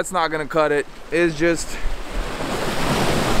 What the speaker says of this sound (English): the waves are way too hard over here